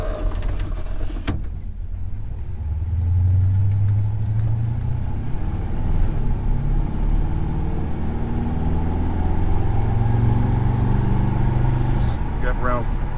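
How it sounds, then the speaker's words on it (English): A 1977 Chevrolet C10 pickup cruising at light throttle around 45 to 50 mph, with a steady low engine and road drone and some faint rattling, while people talk over it. "We just got to get it up to speed and get on that light throttle, and we'll know whether that rattle is gone."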